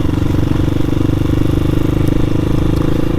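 A Hawk 250 motorcycle rolling along a wildlife drive, its engine giving a steady, loud, close rumble with faint clatter throughout and no change in pace.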